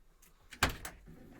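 A door on a 2013 Renault Trafic long-wheelbase passenger van shuts with one soft, quick thud amid faint quiet clicks and handling noises.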